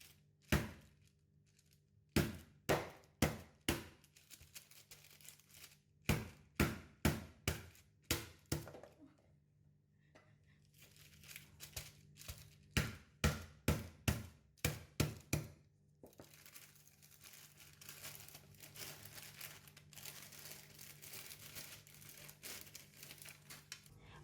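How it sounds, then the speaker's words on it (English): Lemongrass stalks are pounded inside a plastic bag in sharp, rhythmic bursts of thuds with a crinkling plastic rustle, in several quick volleys, while a low steady hum runs underneath. "the lemongrass stalks are smashed."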